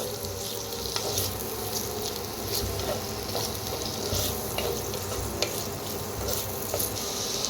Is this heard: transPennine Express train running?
no